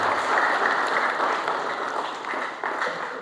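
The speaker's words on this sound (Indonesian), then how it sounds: "Tepuk tangan dulu yang terbaik buat Tuhan Yesus Kristus." A church congregation claps and applauds continuously, a dense, steady wash of many hands at close range that fades slightly toward the end, with no speech over it.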